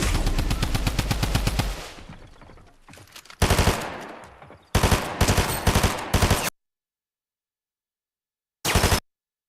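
Automatic gunfire in the video game Fortnite: rapid, loud bursts of shots that stop and start, with a couple of short volleys after a silent gap.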